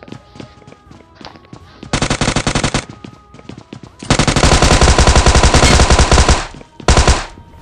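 Gunfire exchanged in PUBG: loud rapid automatic bursts, a short one, then a long sustained stretch and a final brief volley, close and dominant.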